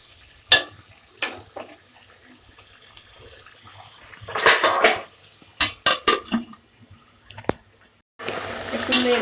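Fish curry with mango being stirred in a pot, with scattered clanks and scrapes of a utensil, bursts of watery bubbling, and a steady sizzle near the end.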